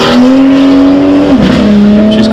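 A BMW launches hard at the Heveningham Concours of Elegance, its engine loud and close, revving up with a brief gear-change dip before pulling strongly again.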